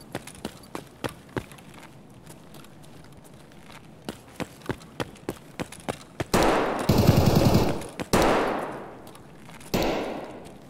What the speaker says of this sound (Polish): O, już się tam strzelają, widzę.